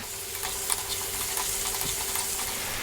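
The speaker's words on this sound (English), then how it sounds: "Let's just stir this around for 2 minutes." Ginger garlic paste fries in a pan with a steady, bright sizzle, while a spoon stirs it with a few soft scrapes and taps, close and continuous.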